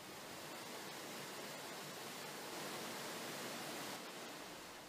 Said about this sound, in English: Here you can see the effluent flowing over the serpentine weir.